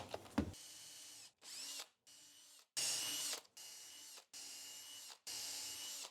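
A power drill with a 5mm bit bores shelf pin holes in a store-bought cabinet: six short bursts of whirring, each about half a second, separated by quiet gaps.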